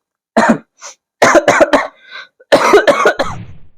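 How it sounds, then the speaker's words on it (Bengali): Several harsh coughs and throat clearing in a comedic sketch, loud and close, coming in three bursts separated by brief gaps. "যারা প্রবল পরিমাণে ভাট বকছে তাদের কাশির সম্ভাবনা প্রবল"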